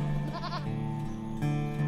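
Feral goat bleating close by, one wavering, quavering call heard over a steady musical bed.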